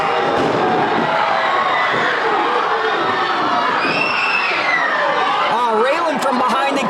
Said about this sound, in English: This is one of the hottest crowds I've ever been around.